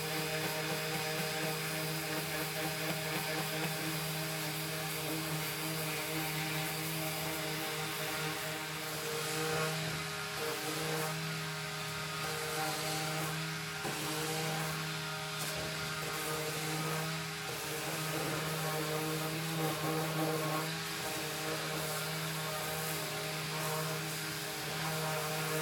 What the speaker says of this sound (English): One last sanding run, make it nice and clean for the stain.